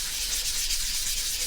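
A wooden bike chain is rubbed with 320 grit sandpaper, giving a continuous close scratchy hiss with brisk, even strokes and no talking.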